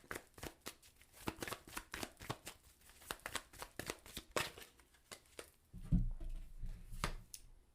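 A deck of tarot cards shuffled by hand, a quick run of soft papery riffles and taps close by, ending in a louder burst of card handling.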